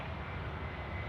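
A Boeing 767 freighter landing at Sydney Airport, heard as a steady, broad jet engine roar at moderate distance, continuous and unbroken, with no voices.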